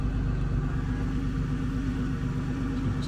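A 2001 Isuzu VehiCROSS engine runs just after a cold start with a steady, low idling rumble that stays fairly quiet and even throughout, with no voices.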